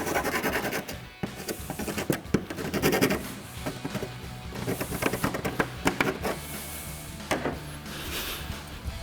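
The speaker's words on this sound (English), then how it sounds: "Then I'm just gonna go in here with my file," A hand file scrapes along the edges of a Challenger Hellcat-style car hood, producing irregular rasping strokes with close, scratchy bursts and short pauses between them.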